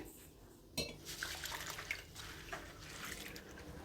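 Thick flattened rice (poha) is rinsed in water in a kitchen: a sharp clink of a vessel, then soft sloshing and dripping swirls, quiet and close, with no talk.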